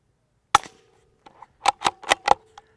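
Standard-velocity rounds from a Savage B FESR .22 rifle fitted with a KGMade Swarm 22 titanium silencer strike a dry dirt berm. A single crisp crack comes first, then a couple of light taps, then four quick close shots and a faint final snap.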